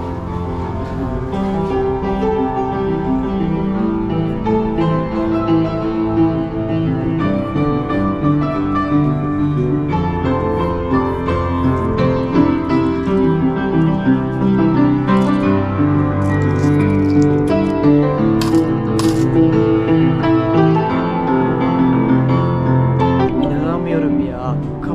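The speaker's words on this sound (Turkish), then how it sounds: "Köprünün altından şimdi göle doğru geçerken çok güzel bir adam piyano çalıyormuş." A man plays piano under a bridge near a lake, a continuous flowing stream of chords and melody filling the space at a steady moderate volume, with people talking faintly over it.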